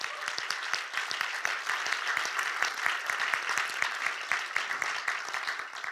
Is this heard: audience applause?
yes